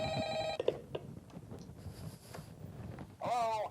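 A telephone rings in short bursts, a first ring at the start and another near the end, with background chatter and noise in between.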